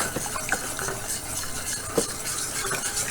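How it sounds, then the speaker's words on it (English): Creamy chicken alfredo sauce stirred in a pan: a utensil scrapes and clicks against the pan in a few quick strokes over a soft, steady background hiss. "I'm stirring it now to make sure that we get all those chunks broken up so they don't ruin our sauce."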